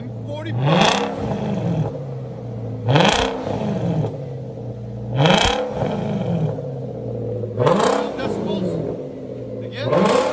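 Straight-piped exhaust on a 2005 Infiniti M45 with the 4.5L V8 roars through five sharp, loud revs in a steady rhythm, each dropping back to a rumbling idle nearby.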